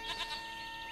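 A single goat in The Witcher 3 gives a short, faint, wavering bleat that lasts under a second, with no talk over it.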